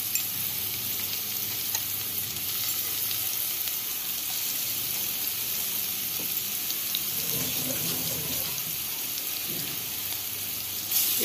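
Ginger-garlic and green chilli paste sautés in a hot pan, a continuous dense sizzle and crackle with light stirring, and a faint voice near the end.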